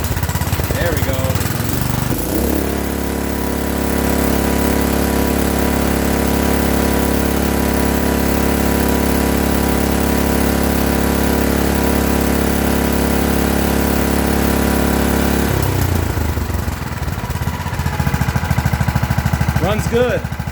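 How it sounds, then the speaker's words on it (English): A Honda GX240 small single-cylinder engine, freshly cleaned carburetor, runs steadily and close by, throttling up into a loud, even drone that holds for several seconds before dropping back, with some handling noise around it. "So I'm gonna try to start it up again and see what we got. Now it should throttle up, hopefully."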